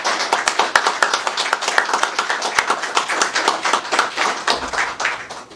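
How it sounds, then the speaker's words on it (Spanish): A live audience claps for the band members after a live performance, a fast, dense run of sharp individual hand claps heard close and fairly loud, holding steady throughout. "Yo te voy a pedir que les demos un aplauso a mis compañeros"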